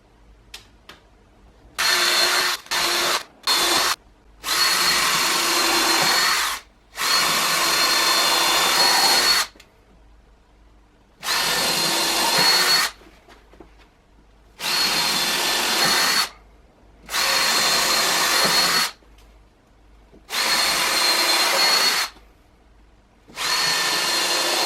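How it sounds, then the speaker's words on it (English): Power drill boring pilot holes into a wooden workbench top, repeated bursts of high whirring a few seconds each separated by short pauses, close and loud. "Now I drill my holes"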